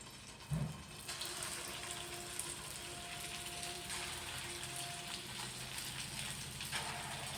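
Small balls of batter sizzling in hot oil at medium heat, a steady crackling hiss that starts with a brief splash and continues without pause.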